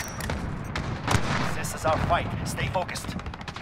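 Rifle fire and battlefield gunshots in Call of Duty multiplayer, a sniper kill with a Kar98 with thermal scope, sharp cracks scattered among background combat noise while game voices speak over the action.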